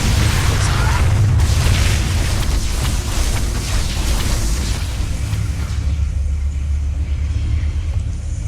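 EMP blasts in a StarCraft Terran-versus-Protoss match, a heavy continuous low rumble of booming bursts that starts loud and eases slightly toward the end, with no talk.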